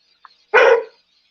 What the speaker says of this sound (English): my dog's barking like crazy